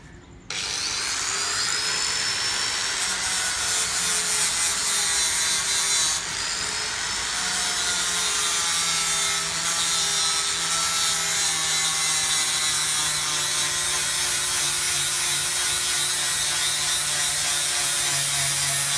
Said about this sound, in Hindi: इसको भी सैंड करके आपको दिखाता हूँ, ग्राइंड करता हूँ इसको भी